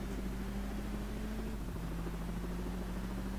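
A helicopter in the driving game Crash Time hovers steadily as a low, constant droning rotor hum with a faint engine whine, loud and unbroken throughout.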